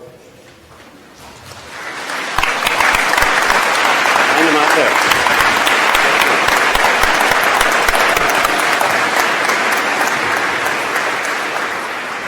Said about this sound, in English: join me in a round of applause to recognize their sacrifice and support